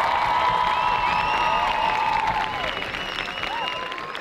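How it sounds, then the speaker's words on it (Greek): An audience claps for children and organisers at an outdoor event in Chios, a dense burst of applause with a few whistles and cheers that gradually thins toward the end. "Ένα χειροκρότημα και για τα παιδιά και για την οργάνωση"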